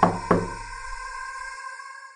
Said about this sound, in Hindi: दस्तक की आवाज तेज होती गई